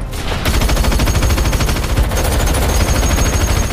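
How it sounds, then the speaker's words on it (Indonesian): Rapid gunfire from an action film, a dense burst of fast repeated shots like a machine gun firing continuously, loud and close, with no talk over it. "Namun setelah diberi senjata, Ballet langsung menembak mereka semua tanpa ampun."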